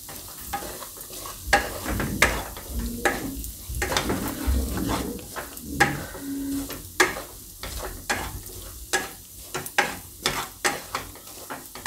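Coriander-cumin powder, red chili and salt are stirred into hot oil in a pan for a Gujarati mixed vegetable dish. Rhythmic spoon clacks and scrapes against the pan repeat over a low sizzle.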